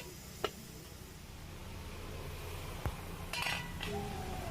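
A lid is set over a cooking pot of kuchia fish curry with a few light metallic clinks against a steady, faint kitchen hiss.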